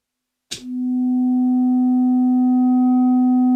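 A single synthesizer tone from an Instruō glōc module starts abruptly and holds steady and loud, a buzzy, harmonic-rich note with added harmonic distortion, no other sounds around it.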